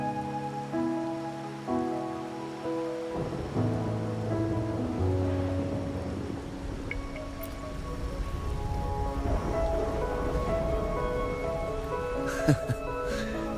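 Rain falls on a rainy night in the video game Wuthering Waves, a steady soft patter and wash that builds under sustained musical tones, with a couple of brief sharp taps near the end.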